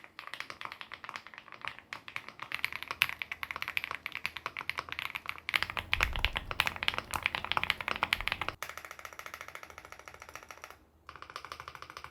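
Rapid, continuous clacking of keys on a Lucky65 V2 mechanical keyboard, close and crisp, with a brief pause near the end before typing resumes.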